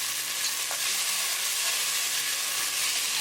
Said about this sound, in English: Cooking ginger and green chili for 1 minute.